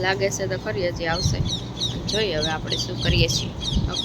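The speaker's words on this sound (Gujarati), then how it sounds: "મસ્ત ચકલીનો અવાજ આવે" Sparrows chirp after rain in short high twitters beneath continuous talking.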